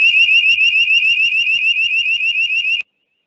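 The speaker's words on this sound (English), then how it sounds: "Sorry, Chair, a fire alarm is going off." A fire alarm going off during a planning committee meeting, a loud, rapid pulsing electronic beep that runs steadily for nearly three seconds before cutting off abruptly.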